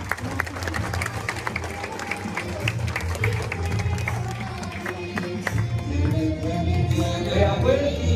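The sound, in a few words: audience applause at statue inauguration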